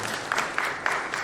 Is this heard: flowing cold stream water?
no